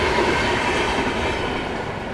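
A passenger train overtakes on the adjacent line, its wheels and carriages making a loud, continuous rumble close alongside, with no talk.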